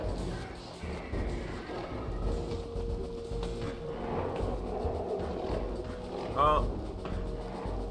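Cannon fire in the video game Soul Reaver 2 booms as low thuds under a busy battle soundscape, fairly faint overall, with a short ringing tone near the end.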